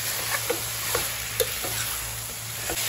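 Chicken curry with chopped tomato being stirred in a pan: a low sizzle under repeated light scrapes and taps of a spoon at an uneven rhythm, close and fairly quiet, no voices.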